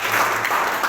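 A classroom audience applauds a student's answer in a hotel-studies lesson, with steady, dense clapping that fills the whole second at moderate loudness and has no talk over it.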